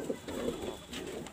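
Pigeons in a home loft, one hen sitting on eggs, coo softly and continuously at close range, low murmuring calls swelling and fading with no talk over them.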